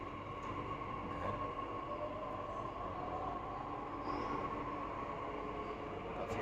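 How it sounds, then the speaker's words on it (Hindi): Continuous rumbling hum of a Delhi Metro train heard from inside the carriage, with a steady droning tone and faint track noise throughout, fairly quiet and without any talking. "दर्शन करके वापस दिल्ली आ गया हूँ। मेट्रो में जा रहा हूँ"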